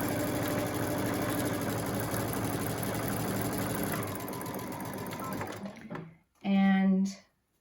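A sewing machine stitching a quarter-inch seam along the round edges of surgical mask fabric, a steady fast mechanical whir that slows and stops, followed by a short renewed burst.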